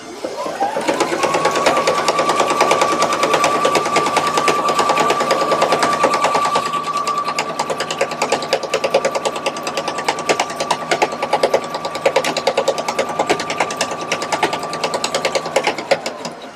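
Sewing machine stitching a seam on a Victorian evening dress, running in one continuous close, loud whir with rapid needle ticks and a steady motor tone for about fifteen seconds.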